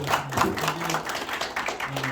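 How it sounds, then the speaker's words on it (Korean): Audience applause at a Y's Men International regional forum: steady, fairly dense clapping from a seated crowd, with a voice speaking over it. "박수 한번 주시죠."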